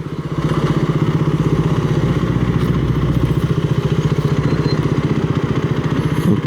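A 2B-licence motorcycle engine runs steadily while riding through Singapore roads, a loud, continuous rhythmic throb with dense pulsing close to the mic and no talk.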